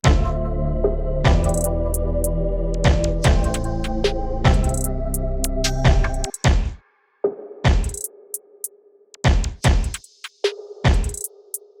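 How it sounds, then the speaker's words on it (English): A drill beat with punchy kicks and crisp hits in a steady groove over a sustained tonal backing, then sparser, isolated hits near the end. "That's the drums I came up with."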